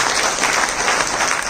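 An audience claps throughout a business motivational talk, a dense continuous wash of applause close by with no break.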